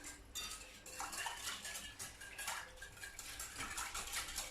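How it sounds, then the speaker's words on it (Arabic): Dough ingredients being mixed in a bowl for Turkish pide bread, with a utensil clinking and scraping against the bowl in quick irregular strokes, close and fairly quiet, no voices. "نخلط مزيان."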